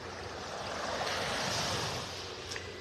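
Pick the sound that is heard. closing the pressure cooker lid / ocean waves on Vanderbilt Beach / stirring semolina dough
ocean waves on Vanderbilt Beach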